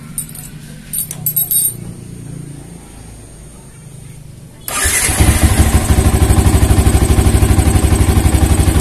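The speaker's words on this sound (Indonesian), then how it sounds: "selanjutnya motor coba kita hidupkan" A Yamaha Old Vixion motorcycle engine with a sputtering fault and a weak battery cranks and fires up, then settles into a loud, steady, throbbing run, preceded by quiet clatter and handling noises.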